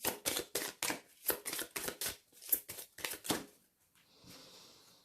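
Tarot-style cards for a thirteen-card reading are shuffled in a rapid series of crisp riffling bursts, about a dozen quick strokes, close and clear, ending with a soft rustle.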